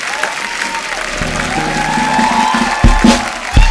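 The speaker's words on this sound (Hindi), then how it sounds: "एक बार जोरदार तालियां हो जाए।" A studio audience applauds at The Kapil Sharma Show, a comedy talk show. Steady, dense clapping and some cheering build in the room, mixed with background music.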